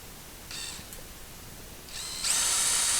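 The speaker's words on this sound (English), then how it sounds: "let's drill our 7/8 hole" A power drill fitted with a step drill bit cuts a 7/8 inch hole at slow speed: two short whirring bursts, then a sustained, louder high whine as the bit bites in, close by with no talking.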